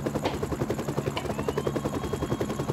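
Helicopter rotor hovering overhead in the train-driving game Train Simulator 2014, a steady, loud rhythmic chopping pulse that continues without a break.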